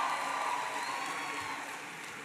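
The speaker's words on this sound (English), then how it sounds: "Give her a big round of applause." A large audience applauds at an education event in Miami, a dense, steady wash of many hands clapping that tapers slightly toward the end, with no speech.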